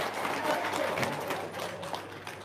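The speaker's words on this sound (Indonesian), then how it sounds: "Tepuk tangan dong." Audience applause at a gathering, a steady wash of clapping and crowd noise filling the whole stretch at moderate level.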